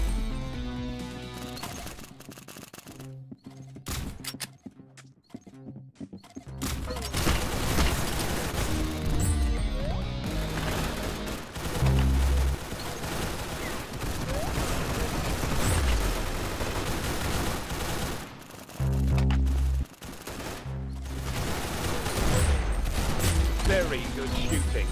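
Gunfire in the Roblox Arsenal shooting game, with rapid bursts and single shots layered over continuous game music and effects, loud and busy throughout the clip.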